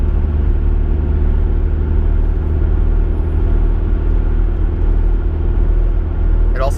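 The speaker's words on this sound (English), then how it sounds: "you're barely on the gas and you can hear the turbo spooling" Audi A4 fitted with an upgraded K04 turbo cruising on light throttle, giving a steady close engine rumble and drone from inside the car with a faint whistle of turbo spool throughout.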